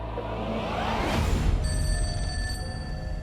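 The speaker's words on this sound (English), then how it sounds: "But then Angelina gets a mysterious phone call" A telephone bell rings loudly in a steady electronic trill with sustained tones, standing alone with no talk over it.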